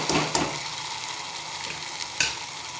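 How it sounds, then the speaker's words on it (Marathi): Masala sizzles steadily as it is stir-fried in hot oil for chana ghugri, with a couple of sharp spatula scrapes against the pan over a constant frying hiss. "तेलामध्ये चांगला परतून घ्यायचा।"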